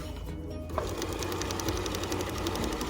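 Sewing machine stitching a seam on a maxi skirt, a steady fast mechanical rattle running close and continuous throughout.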